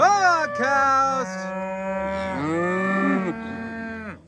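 Several cattle on an upstate New York farm moo close by, overlapping long lowing calls that rise and fall, loud and continuous with no talking.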